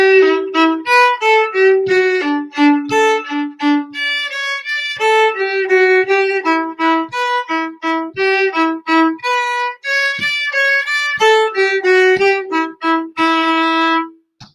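A solo fiddle plays the A section of the tune Swallowtail at a slow, deliberate pace, bowing clear separate notes close up and loud, with no talking.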